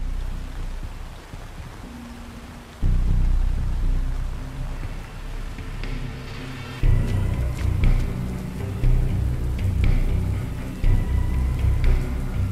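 Rain falls in the video game Metropolis: Lux Obscura, a steady hiss that swells louder partway through, with low rumbling bursts layered over it.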